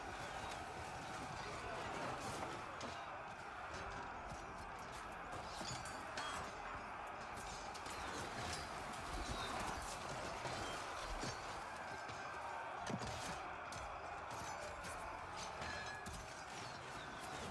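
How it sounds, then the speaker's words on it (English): Horses trample through units in the video game Total War: Troy, a rapid rumbling patter of hooves with light clinking mixed in, steady and moderately loud, with a voice talking over it. "They're horses and they can just trample."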